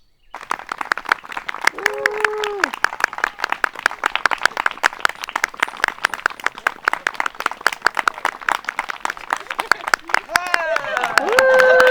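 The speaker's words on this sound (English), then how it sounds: "another round of applause." Audience applause after a short-film screening: dense, sustained clapping with a few whistles or whoops rising above it, growing louder near the end.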